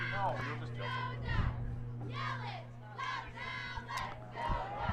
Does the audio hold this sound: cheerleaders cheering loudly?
yes